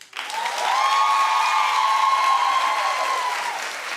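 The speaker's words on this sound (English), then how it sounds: "Clap if you agree." A studio audience breaks into loud clapping and cheering, rising quickly to a full steady roar and tapering slightly at the end, with no talking over it.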